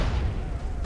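A grenade blast in GTA San Andreas, a short, loud, rumbling boom that fills the whole moment with low, heavy noise and no voice over it.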